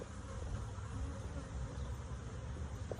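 A wild honeybee swarm buzzing around someone's head as the bees move into a trash-can hive, a dense, constant drone close to the ears with no pause.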